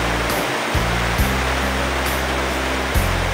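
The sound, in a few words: rain pouring on an island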